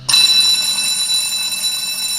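A fire alarm bell sets off abruptly and rings continuously in a loud, bright metallic clang with a steady sustained tone, close and alone.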